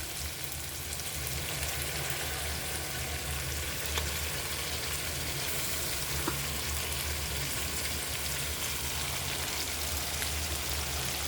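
A paste of mint, coriander, ginger, garlic and green chilli sizzles steadily in a hot pan, a dense, even frying hiss that runs unbroken throughout.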